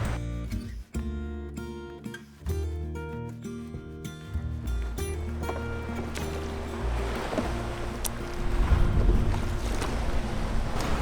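Wind and ocean swell at a sailboat anchorage off a big, rugged coastline, a steady broadband rush with water sloshing against the hull and a heavier surge of waves building near the end, no voices.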